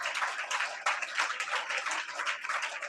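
A church congregation claps loudly in thanks, a dense continuous burst of many hands applauding together at close range, with no talk over it.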